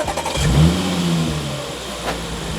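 A supercharged car engine revs up sharply from idle, a loud rising rev that peaks and then settles into a steady high drone, close and alone with no talk.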